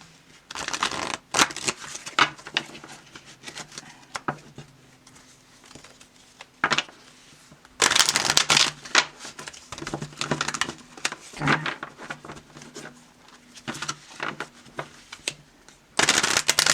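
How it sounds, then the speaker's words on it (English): Bursts of tarot card shuffling, riffles and soft flutters, come in several separate spells with short quiet gaps, close up and fairly loud. "So I did clear and shuffle them."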